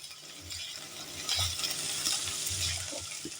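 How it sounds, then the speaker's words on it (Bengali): Salted capsicum sizzles softly in a pan while a spatula stirs it, with a few light scrapes and clinks over a low, even frying hiss. "লবণ দিয়ে আমি এগুলোকে একটুখানি নেড়ে দিলাম"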